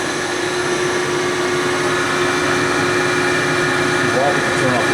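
An Okamoto Grind-X PRG-6DXNC horizontal-spindle CNC rotary surface grinder runs its spindle with a steady, loud machine whine and hum, unchanging throughout, with faint voices in the background.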